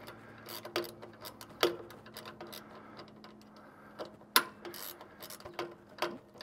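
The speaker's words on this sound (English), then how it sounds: "slowly nick that one up with a ratchet spanner" Ratchet spanner tightening a nylon lock nut during setup of a 2023 Cobra Fortis cylinder mower, giving several sharp, separate clicks at uneven intervals over a faint steady hum, close and fairly quiet.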